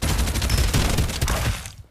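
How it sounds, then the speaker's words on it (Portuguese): Dense gunfire from a firefight in the video game Farlight 84, a loud rapid burst of overlapping shots packed tightly together that cuts off abruptly near the end, with no talk over it. "Aqui eu já tô atirando no primeiro"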